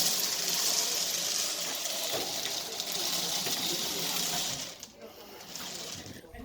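A raffle barrel full of numbered balls is spun anti-clockwise, giving a continuous rattling, tumbling clatter that keeps an even loudness and then thins as the turning slows, with a little talk nearby.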